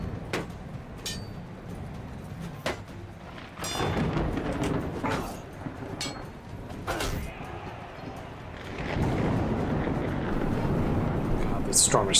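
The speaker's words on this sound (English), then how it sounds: "God, this storm is so loud." Storm ambience in the game Bannerlord, with a steady roar of wind and rumbling thunder swelling louder midway, while a player talks over it.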